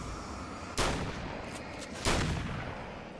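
Two heavy, booming gunshots in the Alan Wake: American Nightmare video game, spaced about a second apart, each loud and close with a short rumbling tail over low ambient noise.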